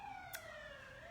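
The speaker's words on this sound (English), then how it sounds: "ambulance" Ambulance siren passing outside, a steady wailing tone gliding slowly downward in pitch across the whole moment, faint and distant with a brief bright burst partway through.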